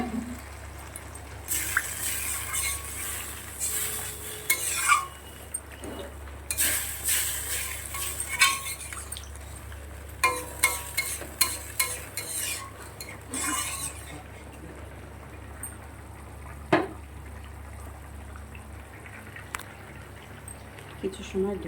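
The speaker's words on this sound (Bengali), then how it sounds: "এবার আমি জল দিয়ে দিচ্ছি পরিমাণ মতো।" Water poured in bursts into a pan of sautéed spice base for a bhola fish jhal curry, with hissy splashing and stirring, and occasional spoon-on-pot clinks between pours; close and moderately loud, with a faint background voice.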